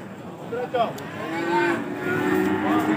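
Cattle at a livestock market, stock sold for Kurban sacrifice, give a few loud, close moos in quick succession over a busy background murmur.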